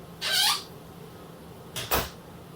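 A solid pantry door in a 2021 Reflection 337RLS RV opens and then shuts, two brief separate whooshing, knocking movements in a quiet interior with no talking.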